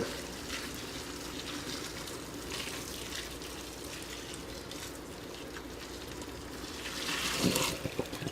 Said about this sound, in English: Let the water drain off.